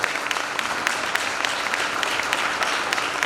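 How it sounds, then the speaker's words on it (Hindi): A church audience at a Christmas celebration gives loud, sustained applause, a dense wash of clapping with sharp individual claps standing out, continuous from start to end. "एक बार इनके लिए जोरदार तालियां बजाएं।"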